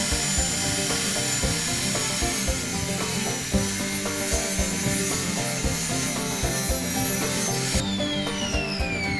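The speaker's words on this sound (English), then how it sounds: "when we taper each of these boards, we actually need to make 2 passes with the table saw, 1 on each side, flipping the board" A table saw cuts a taper along a wooden board for an Adirondack chair, the blade whining loudly with a gritty cutting rasp for most of the stretch before a brief shift as it spins free near the end.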